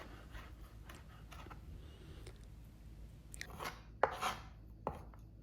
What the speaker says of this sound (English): I will chop the chive.